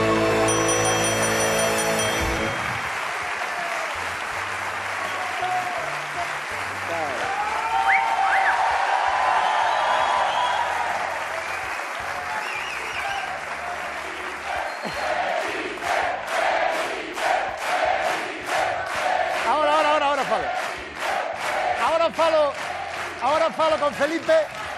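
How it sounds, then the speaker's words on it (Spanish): A studio audience claps and cheers during a televised interview show, building into broad crowd noise with sharp rhythmic claps toward the end while voices carry through. "un aplauso para Felipe"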